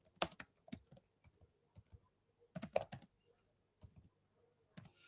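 Bursts of computer keyboard typing while an email is written: clusters of quick keystrokes with short pauses between them, close and fairly quiet, with no talking.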